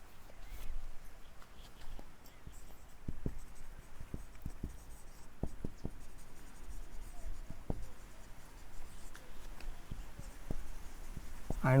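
Chalk or pen writing steadily on a board during a mathematics lecture on complex limits: soft continuous scratching with sharp taps at letter strokes, close and moderately quiet, with faint room noise and no talk.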